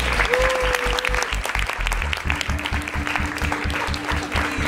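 Applause from the audience at a homemade horror short film showcase, steady clapping throughout with a tonal hum and low thumping beneath, voices faintly mixed in.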